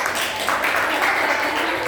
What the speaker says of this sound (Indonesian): Tepuk tangan untuk kita semua yang menjawab.